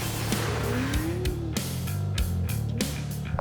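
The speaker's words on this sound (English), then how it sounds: "We got the cars in the burnout box." Formula Drift cars in the burnout box at a Seattle Top 16 event, engines roaring steadily with tires squealing in rising and falling whines, sharp cracks and bursts repeating throughout, loud and close, with no talk.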